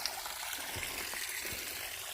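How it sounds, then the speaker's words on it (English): A mountain stream on a wooded trail near Warwoman Dell, Georgia, flows in a steady, soft, even rush with no break, fairly faint and broad. "it's a really nice stream of water"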